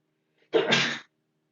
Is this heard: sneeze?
yes